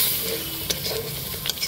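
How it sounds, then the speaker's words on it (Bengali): Soft scraping stir of mushroom curry masala with salt and water in a pan, a gentle continuous sizzle with a few brief spoon clicks against the pan, close and fairly quiet. "এবারে একটু নুন দিয়ে দিব আর দিয়ে দিব একটু জলটা দিয়ে ভালো করে মিক্স করে দিব"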